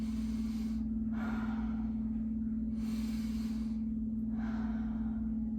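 Heavy breathing during a yoga pose, with slow, audible breaths in and out at a steady rhythm, close to the listener over a constant low hum.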